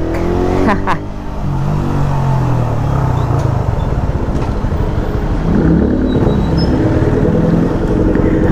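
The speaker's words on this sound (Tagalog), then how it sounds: "traffic." Motor traffic rumbles past continuously, loud engine drone with a rising rev near the start, mingled with a motorcycle's steady hum; a voice talks faintly underneath.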